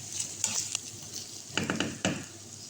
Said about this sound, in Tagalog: Lagay po natin ang ating tofu. Haluin natin para hindi masunog.